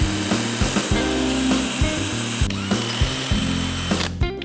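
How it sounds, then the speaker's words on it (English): A power drill whirs steadily, its motor pitch stepping up and down as it bores a hole while fitting a Honda Shadow motorcycle sissy bar, with brief pauses and restarts, loud and close. "I'm gonna drill a hole"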